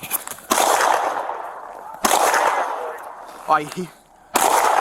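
Police open fire: three loud, sharp reports a couple of seconds apart, each followed by a long ringing decay, with a brief spoken voice between the last two.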